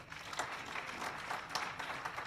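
Audience applause at an agricultural college golden jubilee celebration, a steady, fairly faint wash of clapping from a crowd with scattered sharper claps.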